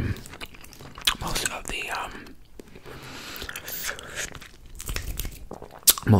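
Fast, aggressive gum chewing mixed with hand sounds, close and quiet, with crisp irregular smacks and crunchy bites, scattered sharp clicks and soft breathy noise throughout.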